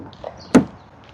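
Driver's side door handle of a locked BMW pulled once, giving a single sharp clack near the middle, close by, with faint soft thuds before and after and no talk.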